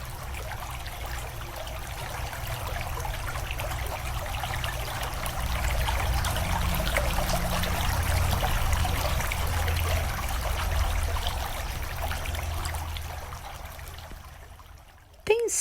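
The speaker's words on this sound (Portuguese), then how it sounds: "A água começou a jorrar e eu estou em apuros." Water gushing as an audiobook sound effect, a steady loud rushing and trickling stream that swells slightly midway and runs unbroken for about fifteen seconds before cutting off.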